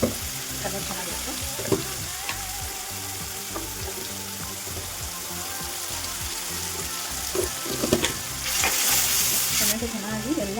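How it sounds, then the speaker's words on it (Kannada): Avarekalu palya, a field bean curry with tomato, salt and turmeric, fries in oil in a pan while being stirred, giving a steady close sizzle with scraping stirs and a louder hiss burst near the end. "ಚೆನ್ನಾಗಿ ಫ್ರೈ ಮಾಡಿ ಬೇಯಿಸ್ಕೋಬೇಕು"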